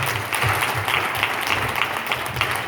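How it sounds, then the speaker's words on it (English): Crowd clapping at an award presentation, a dense and lively round of applause, steady and fairly close throughout. "So everybody give her mother a round of applause."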